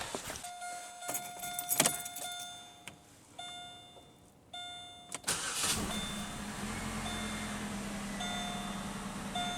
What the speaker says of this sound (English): Let's start it up and get this car off the ramps.